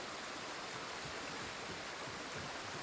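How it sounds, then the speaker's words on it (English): Rushing waterfall in the Ghost of Tsushima video game: a steady, soft broadband hiss of falling water that stays even throughout, heard alone with no voices. "Look at that waterfall."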